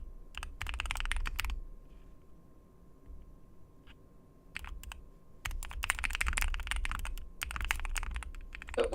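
Clattering keystrokes on a computer keyboard come in quick bursts separated by short pauses, close and fairly loud against a low background hum, with no talking.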